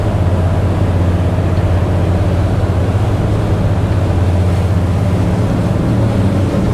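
Engines of a 2021 Sunseeker Predator 60 Evo sports cruiser motor yacht running at speed on open water, a steady loud low drone with rushing hull and water noise throughout, unbroken and even.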